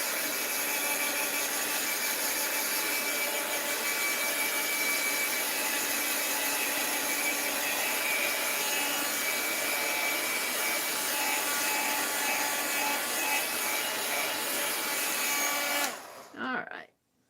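Steady, loud whirring blow of a heat tool drying paint on a mixed-media art journal cover, continuous up close before abruptly cutting off.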